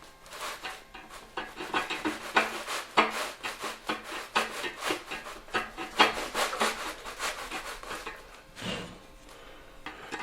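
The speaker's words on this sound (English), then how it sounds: "I'm going to give it some sandpaper or a little file and just put that down flat" Sandpaper or a small file rubbing flat across an aluminum radiator filler neck on a Foxbody Mustang, a steady run of close, rhythmic rasping strokes with short pauses.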